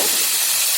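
A loud, sharp burst of hissing sizzle as hot tempering hits a Sarvani theeyal curry, brief and steam-like.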